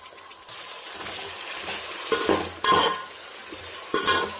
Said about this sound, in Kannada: ಬದನೆಕಾಯಿನ ಹಾಕ್ತಾಯಿದ್ದೀನಿ ಒಗ್ಗರಣೆಗೆ